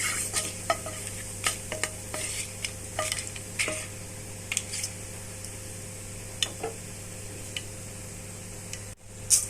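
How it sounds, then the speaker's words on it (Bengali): Bay leaf, cardamom and cinnamon heating in oil in a pan, a soft, steady sizzle with sharp intermittent clicks and taps, as of stirring against the pan, close up. "তেল দিয়ে দিলাম একটা তেজপাতা, এলাচ আর দারচিনি দিয়ে ভালো করে গরম করে নেব"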